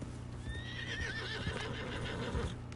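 Horses in the video game Red Dead Redemption 2 give a clear, rising whinny over a steady bed of hoof clip-clops and background game ambience, at moderate volume.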